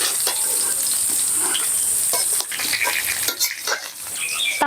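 Restaurant-style Chicken 65 fries in a pan, a steady hissing sizzle with scattered stirring and clinks of utensils against the pan, close and continuous.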